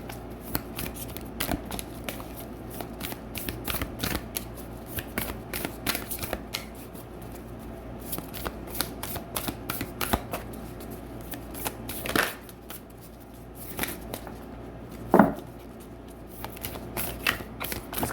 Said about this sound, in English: These cards are like super long, so it's hard to shuffle a little bit.